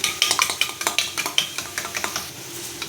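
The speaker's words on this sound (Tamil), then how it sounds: "முட்டையை உடச்சி ஊற்றி கலக்கிக்கலாம்" Eggs seasoned with salt and pepper are whisked in a bowl, a rapid close run of rhythmic clinking strokes against the side that gradually slow and soften toward the end.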